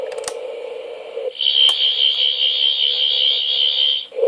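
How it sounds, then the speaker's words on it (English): A Doctor Who TARDIS console playset's toy sonic screwdriver effect: a brief warbling tone, then a shrill, steady high-pitched electronic whine lasting a few seconds before cutting off. "Sonic screwdriver noise."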